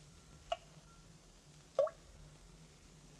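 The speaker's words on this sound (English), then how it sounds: "That steady drip. Drip of water." Water drips in an underground cavern as a radio drama sound effect: two distinct plops about a second apart, with a third starting at the end, each sharp and clear against a quiet, hollow background.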